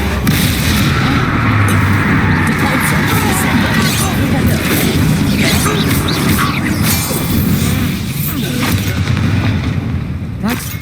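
Confringo fire blast spell cast in Hogwarts Legacy, a dense rumbling, crackling barrage of booming impacts sustained throughout amid battle clamor, with a voice speaking over it.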